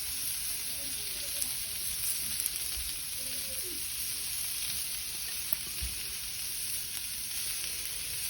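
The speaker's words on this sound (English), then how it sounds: "Onions are going down." Red onion frying on a Weber barbecue during a stir fry, giving a steady, fairly quiet sizzle and hiss that runs unbroken throughout.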